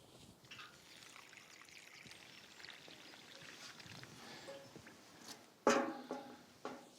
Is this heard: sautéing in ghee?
no